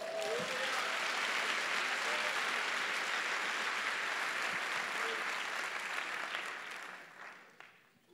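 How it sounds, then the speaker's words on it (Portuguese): A congregation at a church worship service applauds, a long sustained wave of clapping with some faint voices mixed in, before it tapers off and dies away near the end. "Aplauda ao Senhor."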